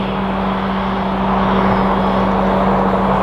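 Jet aircraft engines roar loudly at Madrid Barajas Airport, a dense, steady rumble with a low droning hum that swells slightly as the plane moves past, heard alone.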